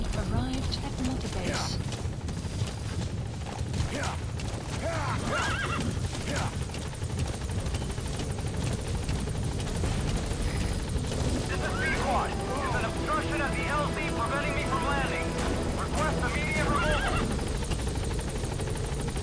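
A horse neighs in the video game Metal Gear Solid V, whinnying repeatedly among hoofbeats and a helicopter drone, with a voice talking over parts of it.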